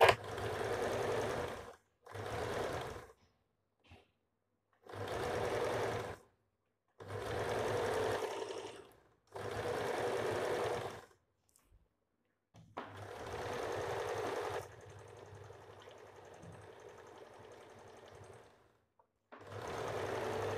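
A sewing machine stitches a separate waistband onto the back piece of a blouse, running in about seven short bursts of a second or two each with pauses between, then one longer, softer run toward the end, close and clear with no talk.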